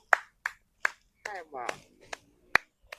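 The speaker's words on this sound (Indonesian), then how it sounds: "Datang-datang tepuk tangan sambil bilang hebat" Slow hand clapping in a Lampung-language action drama, sharp single claps spaced about every half second, close and crisp, with a brief voice breaking in between them.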